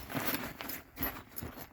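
A zipper is drawn closed on an Ogio Rig 9800 Pro bag holding a packed 20-inch BMX bike, heard as a few quiet scratchy pulls and rustles nearby.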